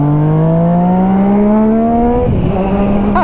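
A Yamaha MT-09 motorcycle engine on a ride to work, a steady loud drone that climbs in pitch as it revs, dips briefly, then settles back to a lower hum.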